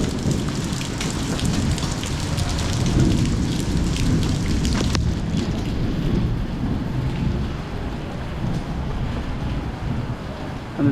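Rain falls steadily on a rainy day on a town's main street, with a low rolling rumble of thunder under the hiss of drops for several seconds before it eases off. No one speaks.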